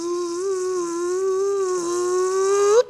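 Mosquitoes buzzing inside a tent: a single continuous whining drone, close and steady for about three seconds, with the pitch wavering slightly and rising sharply just before it cuts off.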